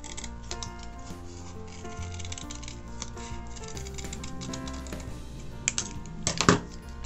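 Scissors snipping through folded felt for a craft piece, a run of soft clicks and crunches with a brief louder burst of cuts near the end, no talking.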